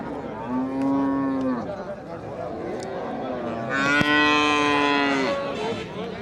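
Cattle at a busy riverside ferry-ghat market low loudly, two long drawn-out moos close by, the second richer and stronger, over a constant background of crowd noise.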